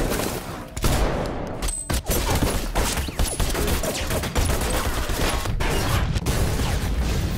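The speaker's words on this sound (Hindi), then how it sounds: "अब जैक और चाओस के बीच फायरिंग होने लगी।" Rapid bursts of gunfire crack back and forth for several seconds, dense and loud, with sharp individual shots punctuating the volleys.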